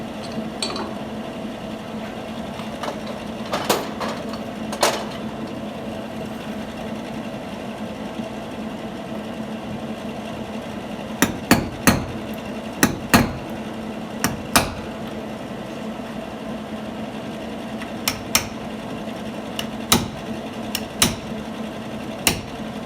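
Sharp metallic impacts of a hammer on a 1950 Plymouth quarter panel ring out in scattered clusters of two or three over a steady mechanical hum, fairly close and moderately loud.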